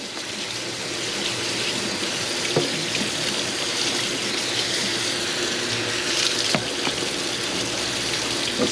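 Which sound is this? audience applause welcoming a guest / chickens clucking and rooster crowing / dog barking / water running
water running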